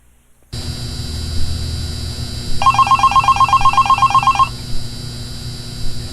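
An old-style telephone bell rings in the video game Five Nights at Candy's, a rapid trilling ring lasting about two seconds over a constant electrical hum and low drone.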